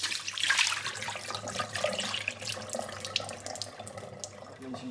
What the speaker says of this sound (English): I've run water through here 3 or 4 times, and you can see there's still a huge amount of rubbish coming out of this machine